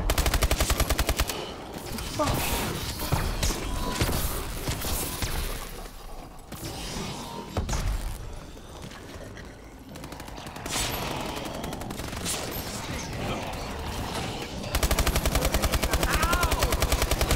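Sustained automatic gunfire from Call of Duty: Advanced Warfare zombie mode, dense and loud throughout with rapid rattling bursts at the start and end and a slightly thinner middle stretch.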